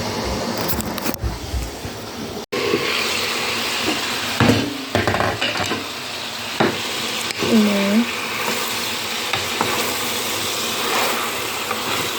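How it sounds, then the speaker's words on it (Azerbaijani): Onion fries in a pan with a loud, dense sizzle and hiss. A utensil stirs and scrapes against the pan in occasional clatters, and a voice briefly murmurs under the frying. "Biraz soğanla da qovrulsun."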